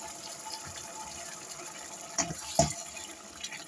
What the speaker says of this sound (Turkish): Bulguru biraz kavurduktan sonra şöyle et suyunu üzerine boşaltıyorum.